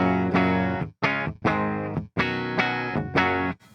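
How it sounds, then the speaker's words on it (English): An electric guitar with the pedal switched off rings out in bright, clean strummed chords, several separate hits with brief gaps between them, close and alone with no talking. "This is the tone without the pedal on."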